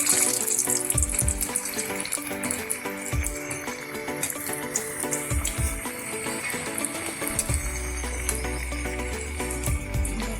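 Vadas, potato fritters for vada pav, fry in hot oil with a steady, dense crackle and bubbling, interrupted by a few soft knocks, all close and alone without talk.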